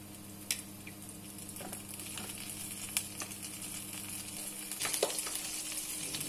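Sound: breadcrumbs frying gently in a pan

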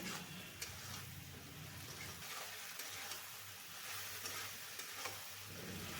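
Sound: potatoes and chili powder being sautéed in a pan

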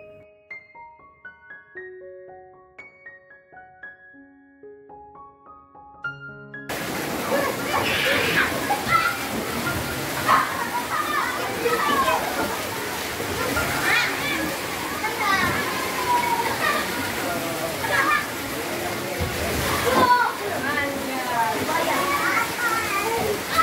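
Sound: children swimming and playing in a water park pool

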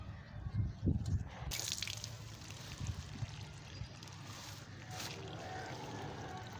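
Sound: watering a potted tuberose bulb from the side

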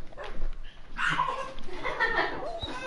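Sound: dog barking in Minecraft video game

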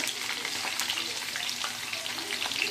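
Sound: masala-coated ivy gourd (kovaikkai) sizzling while frying

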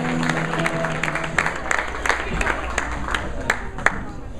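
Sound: wedding guests applauding the father of the bride

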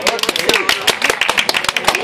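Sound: applause to celebrate

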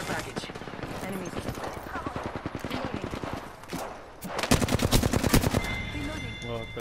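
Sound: gunfire and reloading in a shooter video game

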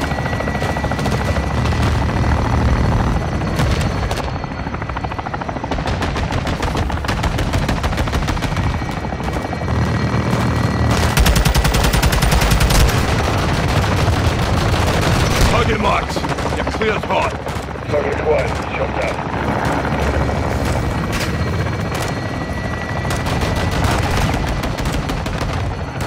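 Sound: air support gunfire in Call of Duty Modern Warfare 2 video game

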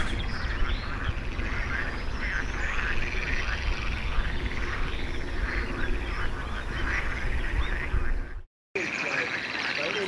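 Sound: frogs croaking

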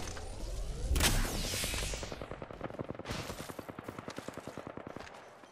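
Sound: gunfire in a video game

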